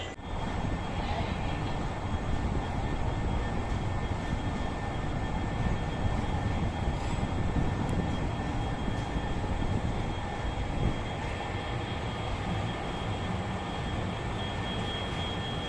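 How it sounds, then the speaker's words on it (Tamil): The West Coast Express, a Mangalore to Chennai passenger train, arrives at the platform with a loud, steady rumble lasting throughout and no talk. "நம்மளுடைய வெஸ்ட் கோஸ்ட் எக்ஸ்பிரஸை வந்து பிளாட்ஃபார்முக்கு கொண்டு வந்துட்டாங்க"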